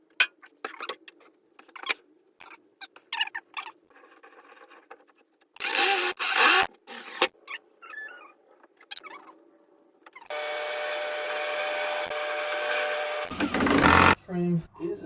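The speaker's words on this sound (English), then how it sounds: "then I'll just drive my drill through those" A power drill whirs in several bursts, driving screws into a wooden wardrobe frame, among scattered clunks and handling noise.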